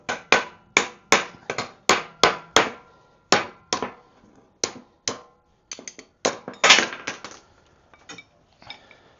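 A hammer strikes to drive a bearing off a tool while fitting a Harley wheel on a Triumph motorcycle. It rings as a series of sharp, loud metallic blows in uneven bursts, some spaced apart, ending in lighter taps.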